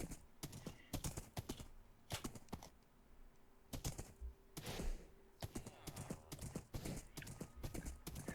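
Horse hooves clip-clopping in Minecraft, irregular clusters of hard clicks with a brief tonal sound midway, fairly quiet and alone.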